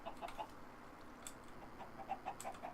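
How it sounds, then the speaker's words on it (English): Chickens cluck in Minecraft Sky Factory 3, several short soft clucks scattered across a quiet background. "start gathering up some of our chickens"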